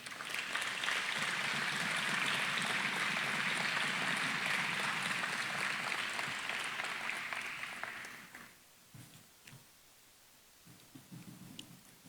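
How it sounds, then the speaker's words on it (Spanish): Congregation clapping during a church service, a broad steady roar of applause lasting about eight seconds before fading out into quiet room noise with a few stray sounds. "Dale un aplauso al Señor."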